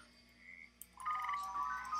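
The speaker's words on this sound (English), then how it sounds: "these are frogs, red-eyed tree frogs. And a normal frog. And these are dart frogs." Frogs croaking in Minecraft with the Animania mod, a soft call first and then a louder warbling trill that holds to the end, close and alone without voices.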